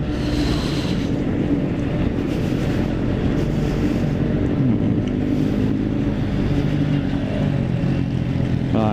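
A truck passes on the Gempol bypass road near Porong, its engine roar rising and falling amid other traffic and rushing wind buffeting, a continuous moderately loud road din with no clear talking.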